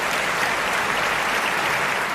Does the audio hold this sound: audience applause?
yes